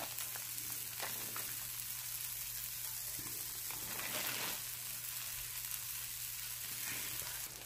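Butternut squash pieces frying in oil in a pan, a steady low sizzle running throughout with a constant hum underneath, heard at close range with no talking.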